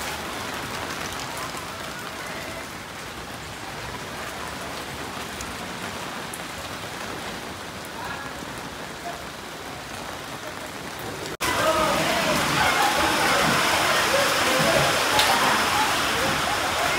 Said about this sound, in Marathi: तिथे पाऊस स्टार्ट झालाय